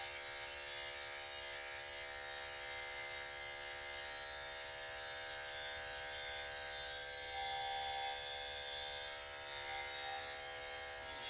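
An electric trimmer buzzes steadily while trimming a beard, a close, continuous motor hum and drone with slight changes in pitch as it moves through the hair.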